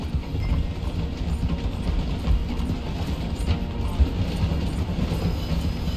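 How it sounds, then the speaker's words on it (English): A train slowing in the Western game Red Dead Redemption 2, a steady low rumble of wheels and carriages rolling on rails with faint rhythmic clatter, continuous and moderately loud, with no talking. "The train is slowing down to go through the station."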